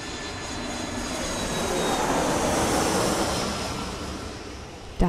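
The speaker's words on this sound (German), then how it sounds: "Das Flugzeug ist gestartet. The flight has started." An airplane's engines roar in a broad, steady rush that swells to a peak and then eases off as it takes off, with no voices.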